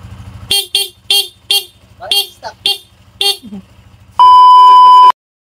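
A stock car horn, before fitting a Sniper 155 dual horn, honks in a rapid series of short beeps, then one longer steady blast, loud and close over a low idling engine.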